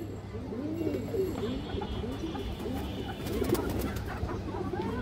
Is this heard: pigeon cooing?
yes